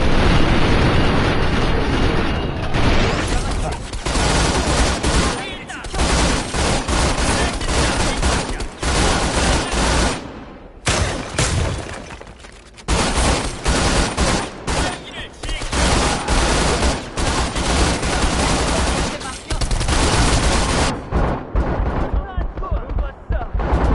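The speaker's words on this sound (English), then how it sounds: "SMG. Oh, infinite ammo." Dense, continuous submachine-gun fire in the VR shooter Tiger Blade, loud and almost unbroken for the whole stretch with only brief pauses and booming impacts.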